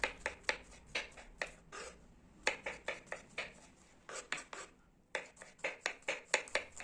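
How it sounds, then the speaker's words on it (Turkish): Quick knife chops on a cutting board as garlic is chopped, sharp taps in bursts of several with short pauses between, close and clear. "Sarımsakları biraz daha iri doğrayacağım."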